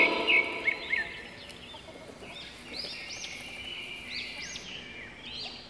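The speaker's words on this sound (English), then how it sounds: "H for hen" A hen clucks and calls in short, repeated bursts over a soft background in a children's phonics song, with a few brighter chirps mixed in.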